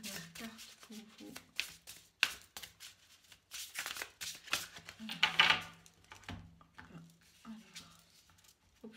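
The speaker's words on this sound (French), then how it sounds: "J'ai tiré deux cartes." Oracle cards are shuffled and drawn by hand, giving soft irregular riffling and flicking bursts with sharper card snaps, close and fairly quiet, with speech heard around them.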